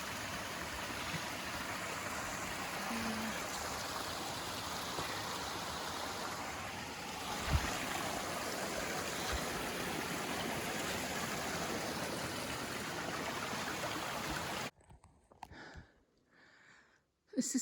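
Water rushes and splashes steadily, a small cascade close by, filling the scene with continuous broadband noise before cutting off near the end.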